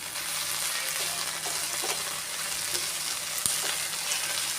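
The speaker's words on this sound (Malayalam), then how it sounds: "ഇതിലേക്ക് നമുക്ക് അല്പം കറിവേപ്പിലയും കൂടെ ചേർത്ത് കൊടുക്കാം." Curry leaves sizzle and crackle in hot oil for a Kerala-style lunch dish, a steady bright frying hiss with small pops throughout and one sharper crack near the end, no voices.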